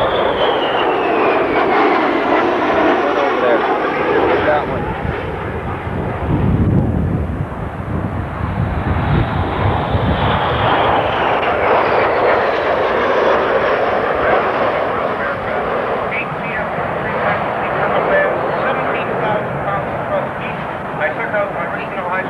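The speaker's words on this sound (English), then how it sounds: "Cameras at the ready, the 135 and the B-52." A B-52 bomber and a KC-135 jet fly past at a 1982 air show in London, Ontario, a loud sustained roaring jet rumble that swells and shifts over about twenty seconds, with wind buffeting on the microphone and crowd voices underneath.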